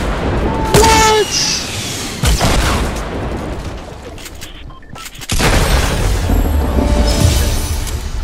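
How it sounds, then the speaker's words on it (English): A rocket explosion in the Fortnite video game, booming blasts and gunfire-like bursts mixed with loud talking from a player nearby. "How did he kill me one shot with a rocket though?"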